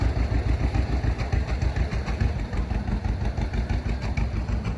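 An old Chalmers International tractor engine runs loudly nearby at an outdoor auction, a steady, throbbing low rumble with rapid rhythmic pulses throughout.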